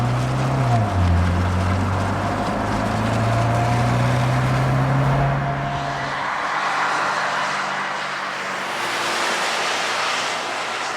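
A Mazda CX-5 with a naturally aspirated engine climbs a mountain road at nearly 10,000 feet, heard as a steady, loud engine drone and road rumble whose pitch shifts as it pulls, with no speech.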